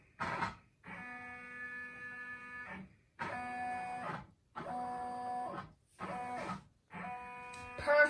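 Embroidery machine stitching along a design outline on a baby quilted blanket, giving off several bursts of steady mechanical whirring and humming, each a second or two long and separated by brief pauses, close and fairly loud.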